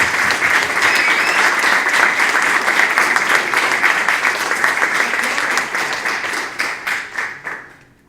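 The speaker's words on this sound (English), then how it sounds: "So applause for everyone." Steady applause from a crowd, loud and sustained, gradually tapering off toward the end.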